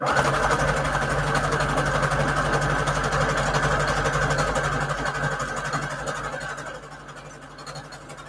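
A sewing machine stitches fabric onto an index card, a steady close mechanical whir with a fast rhythmic chatter that runs evenly and then slows and quiets near the end.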